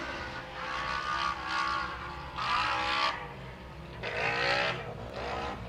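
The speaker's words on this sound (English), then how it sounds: "Boy, these cars are loud. These NA cars just got a totally different sound." Naturally aspirated side-by-side race cars roar past at a championship race, with loud engine revs rising and falling in repeated surges and a steady rumble underneath.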